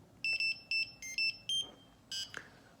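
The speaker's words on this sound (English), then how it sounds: "So that's just showing you what you can do with the buzzer." The buzzer on a PCB trophy board with NeoPixel LEDs sounds a quick series of short electronic beeps, some at differing pitches, close by and fairly faint.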